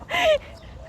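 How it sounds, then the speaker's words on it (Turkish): A single short, loud duck quack close by, followed by quiet background, at the Real Alcázar palace in Seville. "Sevilla'da ördeğin saldırısına yakalandık."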